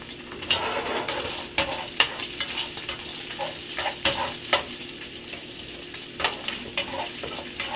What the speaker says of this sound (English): we don't want to fry the bacon where they're crispy